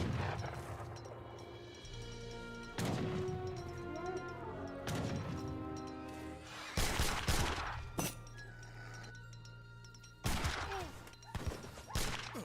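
Militia musket volleys in Age of Empires 3: several sharp, crashing bursts of massed gunfire spaced across the stretch, with clatter and impacts between them, fairly close and loud over quiet game ambience.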